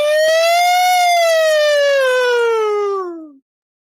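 A single loud ambulance siren wail, close and alone, holding a steady rising-then-falling tone before sliding downward and cutting off abruptly near the end.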